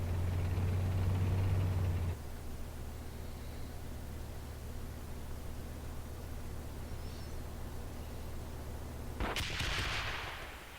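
Gunfire in the tank simulation game Steel Beasts Pro: a heavy, continuous rumbling noise with low engine drone, then a sharp, loud burst of incoming fire near the end.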